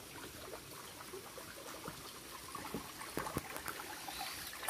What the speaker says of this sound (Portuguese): Começa a encher as aguinhas, aí começa aquele som gostoso da natureza